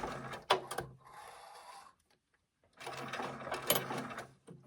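A sewing machine stitches a bunny bag around a curve in two loud, steady runs of rapid mechanical clatter, separated by a soft whirring pause and a brief near-silent gap.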